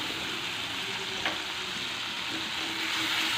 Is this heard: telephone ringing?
no